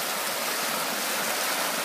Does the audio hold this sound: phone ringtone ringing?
no